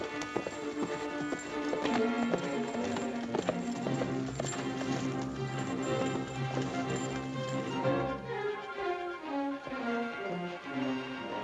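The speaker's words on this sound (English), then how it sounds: "That's a right nice horse there, ain't it?" Horse hooves clip-clop steadily in a 1948 Western film scene, the rhythmic footfalls running under continuous orchestral music.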